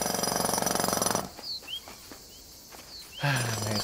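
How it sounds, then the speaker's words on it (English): Jackhammer in the wildlife adventure game Alba, loud steady rattling pounding that starts the clip, cuts out to quieter ambience with bird calls, then resumes near the end. "A jackhammer? I have always wanted to use one of these things."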